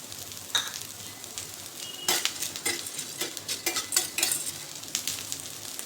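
Chana dal roasting with spices in a hot pan, a soft sizzle under repeated scraping stirs of a spoon against the metal, the strokes coming in short bursts, close by and with no voices.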